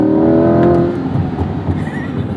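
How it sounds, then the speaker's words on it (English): Hard acceleration from a 2021 Corvette C8 Z51, a loud close engine note climbing steadily in pitch with strong layered harmonics, fading slightly into a rougher roar toward the end. "God, this car hauls"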